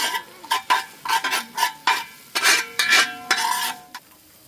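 A spoon scrapes and clinks rhythmically around a pan holding vinegar and pepper powder, roughly a dozen quick close strokes over a light sizzle, with no talk.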